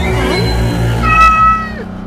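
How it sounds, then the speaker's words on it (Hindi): A house cat meows a few times indoors, the calls clear and fairly close, with a low steady background hum and no talking. "अरे ये तो बिल्ली है।"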